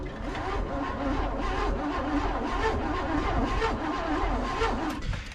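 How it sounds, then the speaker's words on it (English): A 1981 Chevy engine cranks after sitting for 29 years, a loud, continuous mechanical churning heard up close for several seconds with no talk over it. "We have crankage."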